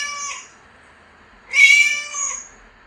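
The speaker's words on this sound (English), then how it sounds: "What does a cat say? It says meow, meow." A cat meows twice, close and clear: a short first mew, then a longer, louder drawn-out meow after a pause.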